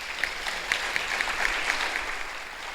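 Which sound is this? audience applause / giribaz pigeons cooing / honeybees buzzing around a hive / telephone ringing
audience applause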